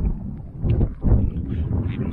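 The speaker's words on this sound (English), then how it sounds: "Even the grass is lying down from the wind." Strong wind buffets the microphone outdoors on open grassland in the Peak District, a low rumbling roar that surges in gusts over about two seconds with no speech.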